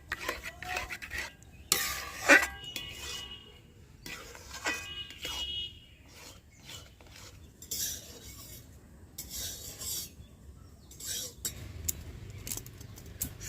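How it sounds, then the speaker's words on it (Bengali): Semolina and salt are mixed by hand, making intermittent soft rubbing, scraping and gritty stirring sounds, with a few brief clinks of a utensil or bowl. The sounds are close and fairly quiet. "এবার এই সুজির মধ্যে দিয়ে দেবো স্বাদ অনুযায়ী লবণ, দিয়ে খুব ভালোভাবে মিশিয়ে নেবো"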